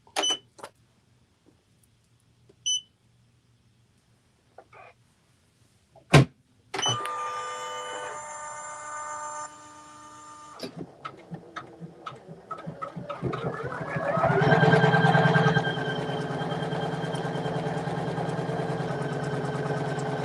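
An embroidery machine stitches a tack-down outline, starting after a few clicks and settling into a fast, steady mechanical whir with rising intensity, close and alone.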